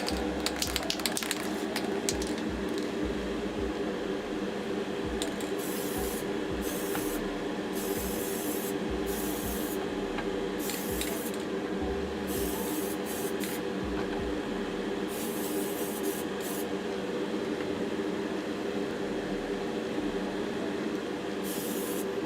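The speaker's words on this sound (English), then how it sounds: "Give them a little spray with some varnish first." Varnish sprayed inside a spray booth: repeated hissing bursts of spray start and stop in uneven pulses over a steady ventilation hum, close and fairly loud, with no talking.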